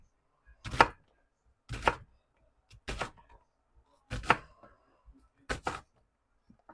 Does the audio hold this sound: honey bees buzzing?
no